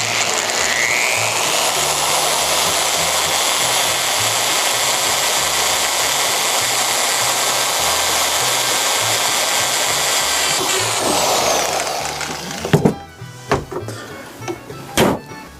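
A power drill whines steadily for about eleven seconds while boring into an engine long block, then winds down and stops, followed by a few scattered knocks and handling clunks.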